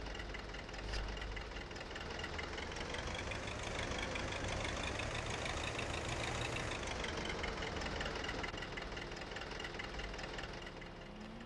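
Tractor engine in Farming Simulator 15 runs steadily throughout, a loud continuous low rumble with a knocking idle quality and slight shifts in pitch as it works, with no talking.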